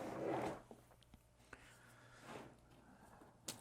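A zipper on a carry-on luggage pocket is pulled open in one quick, quiet zip at the start, followed by a few soft clicks and handling taps.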